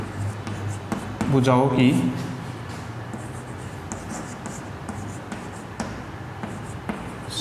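Marker or chalk strokes on a classroom board, a series of quick scratchy taps and short squeaks close by, with someone speaking briefly near the start.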